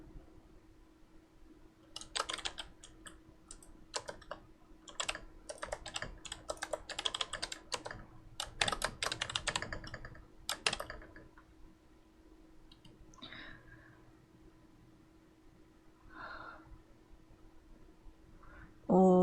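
Someone types on a computer keyboard in irregular bursts of quick, close clicking keystrokes, with pauses and a steady low hum underneath, ending in a brief sound at the close.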